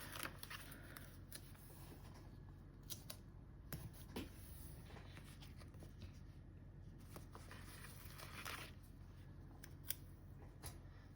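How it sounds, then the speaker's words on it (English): Quiet, close snips of scissors cutting paper floral stickers in half, a few faint crisp cuts spread over a soft steady background, no talking. "I've cut some of the florals in half so that I can kind of make this border"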